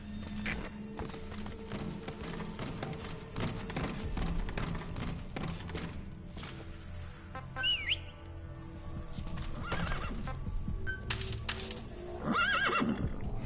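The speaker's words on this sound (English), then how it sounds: "No, I did not want the horse to come in here." A horse in the video game Metal Gear Solid V whinnies and neighs a couple of times amid steady clip-clopping hooves, set against game ambience with faint bird chirps and a low background hum.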